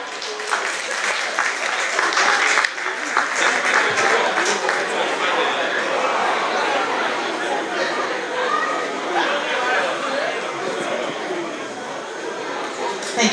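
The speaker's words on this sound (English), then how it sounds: "Can you please give him a round of applause?" Audience applause for Professor Kolawole at an evening event, a dense, sustained wash of clapping from a large crowd with murmured chatter underneath, loud and continuous for over ten seconds.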